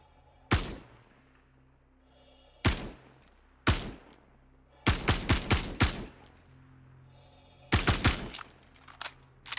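Single-shot gunfire from a P4-AR rifle in the Star Citizen video game, loud sharp reports heard alone, first spaced apart, then in quicker clusters of four or five shots, then another tight burst near the end.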